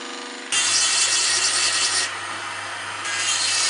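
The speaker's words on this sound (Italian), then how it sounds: "dobbiamo lavorare l'ossidiana con un disco diamantato." A diamond disc cuts into obsidian during jewellery work, a loud, bright, steady grinding hiss that starts abruptly after a short hum, eases slightly midway, then rises again, with no talk.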